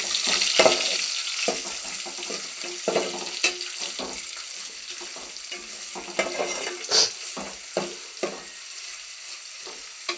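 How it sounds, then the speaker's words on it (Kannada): Onions fry in oil in a pan, a steady close sizzle broken by frequent scraping stirs and a few sharper clatters, with no voices. "ಈರುಳ್ಳಿ ಚೆನ್ನಾಗಿ ಫ್ರೈ ಆಗಬೇಕು ಆಯಿಲಲ್ಲಿ ಗೋಲ್ಡ್ ಗೋಲ್ಡಿಶ್ ಕಲರ್ ಬರಬೇಕು"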